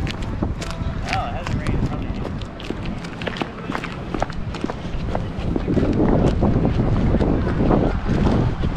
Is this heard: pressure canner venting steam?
no